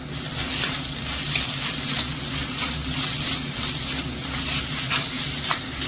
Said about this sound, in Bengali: লবণটা দিয়ে এবার ভেজে নেব হলুদ আর লবণটা দিয়ে ভাজলে কিন্তু সয়াবিনের গন্ধটা লাগবে না